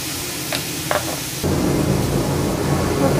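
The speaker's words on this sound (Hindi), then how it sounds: "प्याज को अच्छे से फ्राई करेंगे" Finely chopped onions with salt sizzle in a hot pan, a couple of brief stirring scrapes early on, then a steady louder frying hiss that holds to the end, close and alone.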